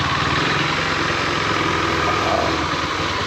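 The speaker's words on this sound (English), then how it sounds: "The bike is stuttering like that. That's because the chain is in a very bad shape." A KTM Duke 390 motorcycle engine runs roughly, stuttering as it idles with a worn, badly maintained chain, a continuous loud close mechanical drone with uneven low pulsing and no voices.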